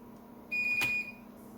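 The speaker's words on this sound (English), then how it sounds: "I hold down those keys until it starts beeping, so that way I know it's recognized my command." A Dell PowerEdge 840 server booting gives a single clear electronic beep, a steady tone of about half a second, close and distinct above a low machine hum, with a short click in the middle.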